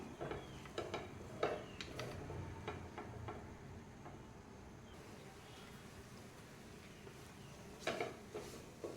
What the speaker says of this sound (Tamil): நெய்யில் நல்லா கடலை மாவு கலர் சேஞ்ச் ஆகிற வரைக்கும் வறுத்துக்கணும்.